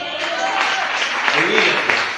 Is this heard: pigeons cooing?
no